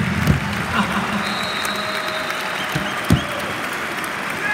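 Arena crowd applauding at a live concert, a dense steady wash of clapping with a few louder bumps, heard from within the audience under faint background noise.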